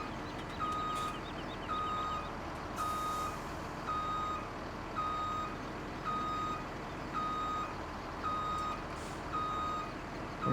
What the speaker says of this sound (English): We're going to get the truck lined up in a little bit better spot here.